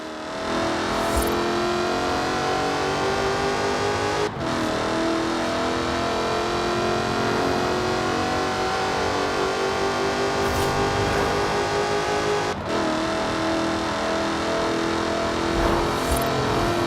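Jaguar Project 7 engine in Forza Horizon 4, a loud continuous engine roar with revving and gear changes, steady throughout with two brief dips around shifts, no talk.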